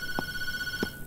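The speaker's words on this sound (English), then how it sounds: "now the phone's ringing" A telephone rings in the horror game Tattletail: two short, evenly spaced ring pulses over a steady electronic tone, close and clear with no voices.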